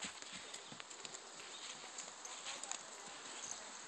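Hooves of a ridden horse clip-clopping at a walk, faint steady clops under outdoor ambience while people talk nearby.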